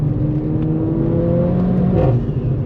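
AMG car engine revving, a loud, steady close rumble with a rising tonal whir swelling briefly near the end.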